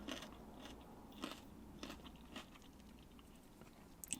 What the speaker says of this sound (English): You can't just start munching a carrot while you're recording a clip.